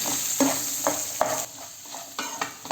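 Onions frying in a pan with urad dal, chana dal, turmeric, curry leaves and green chillies for masala dosa filling, a steady loud sizzle broken by several sharp scraping stirs of a spatula.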